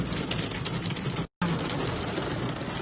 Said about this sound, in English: it's currently raining slash hailing in Ocean Grove.